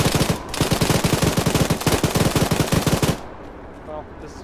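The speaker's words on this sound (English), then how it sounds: "Bricks, use PK." Sustained bursts of PK machine gun fire in the Arma military video game, a rapid loud rhythmic chatter lasting about three seconds before cutting off to quiet background.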